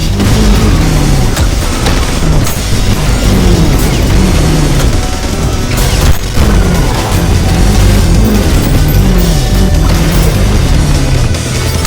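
Rail cannon shot turning into a nuke in the ULTRAKILL shooter, a loud, sustained barrage of booming blasts and crashing bursts layered over pounding game music.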